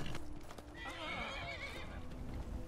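A horse in the video game Skyrim neighs loudly with a long whinny over quick clip-clopping hooves, close and clear against background game sound.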